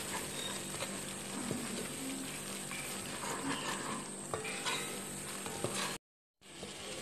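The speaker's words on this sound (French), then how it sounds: "Et on remue." Tomato sauce for an Ivorian atiéké and fish dish is stirred in a frying pan, giving a soft continuous sizzle with scattered scraping taps from the utensil. It is quiet and close, with no voices, and cuts out briefly near the end.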